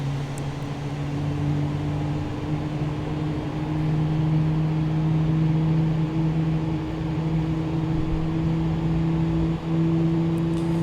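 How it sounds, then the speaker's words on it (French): Steady low mechanical hum with a droning tone, airliner engines starting up and running continuously, fairly loud, no voices. "on commence à démarrer les moteurs"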